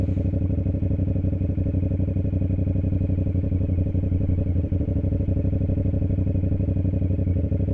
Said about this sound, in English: sometimes you can hear the engine start to die a little bit without throttle